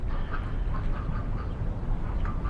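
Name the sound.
ducks quacking at a pond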